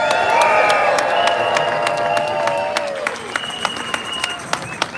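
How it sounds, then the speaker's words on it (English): Crowd applause and cheering at a UCU union rally, with dense clapping and raised voices that stay loud throughout, then thin to scattered sharp claps near the end. "So give yourselves a round of applause,"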